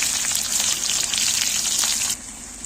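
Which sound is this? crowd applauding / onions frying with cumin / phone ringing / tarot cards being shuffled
onions frying with cumin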